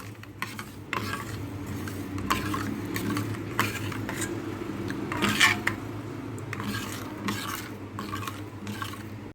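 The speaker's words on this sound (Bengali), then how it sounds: "দিয়ে ভালো করে একটু নেড়ে নেবো" Sugar gets stirred into raw mango pulp for aamsotto, a continuous series of scraping and clinking strokes against the pan over a soft background hum.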